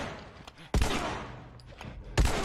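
Two sharp, loud gunshots in The Last of Us video game ring out about a second and a half apart, each followed by a decaying echo.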